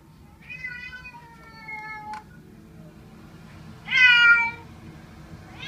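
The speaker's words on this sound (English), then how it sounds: "There's a wet kitty cat. Not happy." An unhappy wet cat lets out several drawn-out, strained meows, with the last one louder and harsher, heard close over a low steady background hum.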